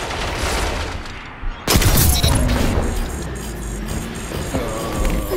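Gunfire in a video game, a sudden burst of shots and booms that starts partway through, loud and dense, with crackling fire continuing to the end.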